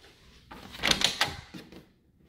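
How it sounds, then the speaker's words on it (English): A door in a rental house is opened in a short burst of handle and hinge clatter, loud and close, then fades to quiet. "we're going to go through this door."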